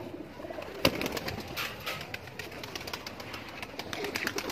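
Pigeons of a Laal Pari breeding pair in Kasur coo softly against steady outdoor background noise, with a sharp handling thump near the start and faint talk.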